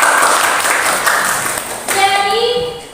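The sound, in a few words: classroom applause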